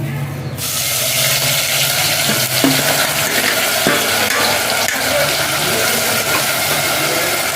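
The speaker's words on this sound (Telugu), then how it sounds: "ఈరోజు నూనె వేసుకుంటున్నాను అండి ఉల్లిపాయ పేస్ట్ వేస్తాను" Onion paste frying in hot oil in a pan for a sanduva fish curry gives a loud, steady, close-up sizzle that runs unbroken throughout, with faint clinks and scraping beneath it.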